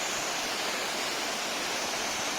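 Ramasari waterfall in Lankamala forest, Kadapa district, flowing full: a steady, dense roar of rushing water, loud and continuous with no pauses or voices.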